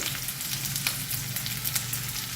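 Curry leaves, cut green chili and chili powder frying in a pan for a Tamil karamani stir-fry, giving a dense, continuous close-up sizzle throughout with no talking.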